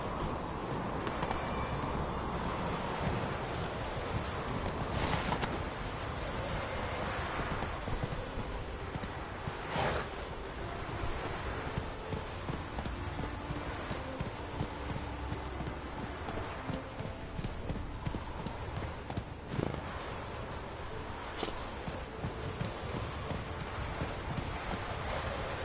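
Roach, a horse in The Witcher III: Blood and Wine, gallops in a steady, rapid clip-clop of hooves that runs throughout, with faint wind and rain in the background.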